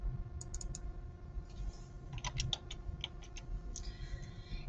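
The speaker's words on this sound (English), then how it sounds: "So let's go back in and I will type that in." Keys tap on a computer keyboard in scattered short clusters of soft, close clicks over a steady electrical hum, with no one speaking.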